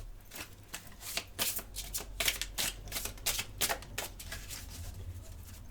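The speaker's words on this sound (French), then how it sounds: "Je vais juste tirer une carte comme ça pour voir." A deck of tarot cards is handled and a card drawn, with a quick flurry of papery riffles and flicks in uneven bursts, close and fairly quiet over a low steady hum, with no voices.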